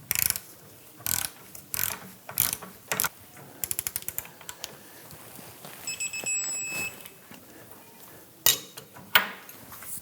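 A torque wrench tightens the rear lower control arm bolt on a 1997-2006 Jeep Wrangler to 130 foot-pounds. Sharp, irregular clicks and short ratcheting bursts sound close by against a quiet background.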